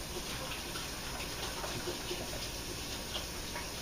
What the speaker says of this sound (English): So let me rinse my hands really quick.